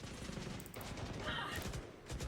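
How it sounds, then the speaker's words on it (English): Gunfire in a competitive Valorant match, a dense continuous fusillade of shots with stray rounds, steady and close throughout with a brief pause midway and a voice commenting over it. "A lot of bullets flying forwards here, stray shots."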